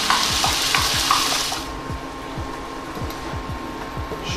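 Cream being stirred into salsify in a frying pan, with a rhythmic series of spoon scrapes against the pan over a soft steady sizzle, a brighter hiss fading out after the first second or so.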